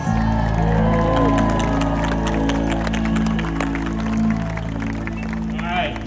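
A concert crowd at a show in Taunton claps and cheers loudly, with whoops rising above sustained stage music and a continuous roar of the audience throughout.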